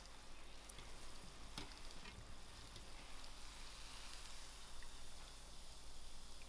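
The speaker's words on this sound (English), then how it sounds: "we are only allowing the batter to get fried out" Vada pav batter frying in hot oil, a faint steady sizzle and crackle with a couple of soft clinks, no voices.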